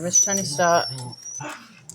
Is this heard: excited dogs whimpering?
yes